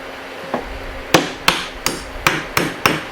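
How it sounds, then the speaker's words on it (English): A metal hammer strikes the spine of a Mora knife to split fatwood, giving seven or eight sharp, ringing knocks in quick succession, close and clear. "it's a Mora knife, so I don't worry about hammering on it with a real metal hammer"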